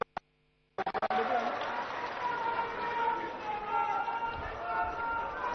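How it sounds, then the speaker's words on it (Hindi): An audience at a political event in Rajasthan breaks into loud, sustained applause to welcome a former opposition leader, a dense wash of clapping and crowd noise that starts abruptly after a few isolated claps. "एक बार जोरदार तालियों से स्वागत और अभिनंदन करें"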